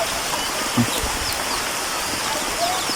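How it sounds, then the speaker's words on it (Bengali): Rain pours outdoors at a wetland fishing spot in Chalan Beel, making a constant, even hiss of heavy rainfall with a few faint bird calls in the background. "এই যে বৃষ্টি পড়ছে প্রচুর বৃষ্টি পড়ছে দেখতে পাচ্ছেন"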